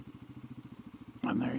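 A Genuine G400C motorcycle engine idles with a quick, even thumping pulse, then revs up sharply into a louder, rougher drone near the end.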